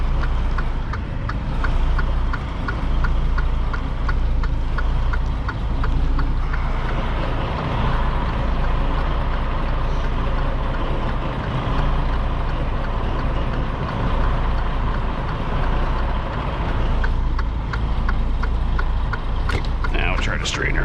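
A semi truck slowly backing into a grocery store loading dock, its engine rumbling steadily and loud throughout with a low idling drone and faint rhythmic clatter, a brief higher squeal near the end.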